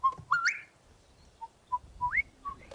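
A person whistles in imitation of a bird call on a sunrise safari drive, a few short rising and steady notes with gaps between them, close and fairly clear against a quiet background.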